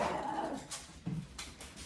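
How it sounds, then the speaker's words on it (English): Dogs chasing each other indoors, with brief yips and whimpers, a soft thump and scrabbling, heard close but fairly quiet, no talk. "what you're hearing right now are dogs running after each other"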